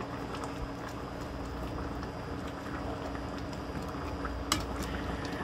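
Coconut milk sauce for ginataang tambakol bubbles steadily in a pot, a dense continuous simmering hiss with faint popping and one brief clink of a utensil near the end.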